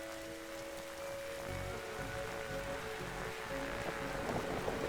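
Video game rain: steady rain hiss with a low rumbling bed and faint droning tones underneath, continuous throughout, no voices.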